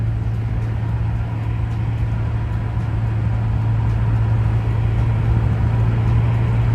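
Alfa Romeo Giulia cruising on a late-night drive, its engine a steady low drone with constant road rumble, continuous and even throughout, with no voices.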